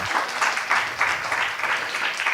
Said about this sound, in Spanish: este aplauso es para vos en realidad